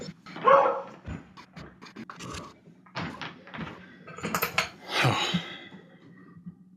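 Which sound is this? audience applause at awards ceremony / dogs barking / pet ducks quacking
dogs barking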